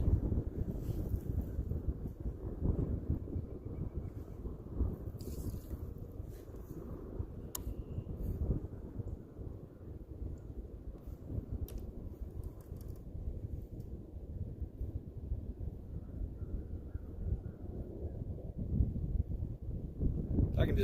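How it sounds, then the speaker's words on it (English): Wind gusting over an Indiana lake in March during kayak catfishing, a steady low rumble and microphone buffeting that runs the whole time, with occasional faint knocks. "Man, that wind's getting worse."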